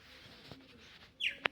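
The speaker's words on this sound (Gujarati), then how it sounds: "અવાજ તમે સાંભળો અહીંયા પક્ષીઓનો" Birds on a quiet farm, including pigeons, give a few faint calls, then a short bright chirp and a sharp tweet rise clearly over the soft outdoor background.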